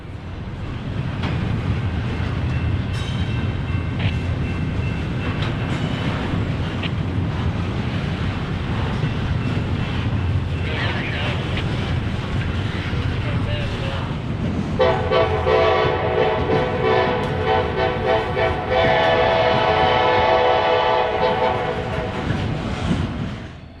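A daily intermodal freight train on the AGS line near Meridian rumbles steadily past with wheel clatter, then a loud sustained multi-chime horn blasts through the final stretch, close and continuous, with wind buffeting the microphone.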